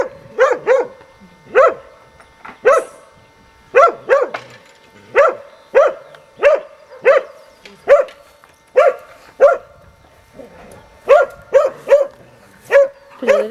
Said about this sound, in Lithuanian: Labas, labas šuniukai